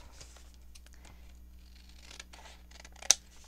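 Scissors snip through paper while a junk journal pocket is trimmed, giving a few quiet, close cuts spread over a few seconds and ending in one sharper snap.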